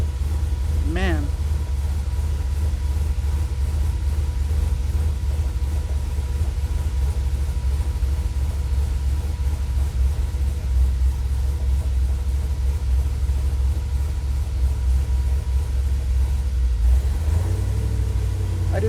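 A car engine fitted with Holley Sniper fuel injection runs steadily near idle with a low continuous rumble, a stuck-open throttle holding it up. A brief rising whine appears early, and a voice speaks over it.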